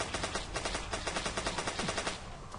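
Rapid automatic gunfire in the zombie shooter Zombocalypse 2 rattles off in an even, fast stream of shots for about two seconds, loud and steady, then stops, with no talking.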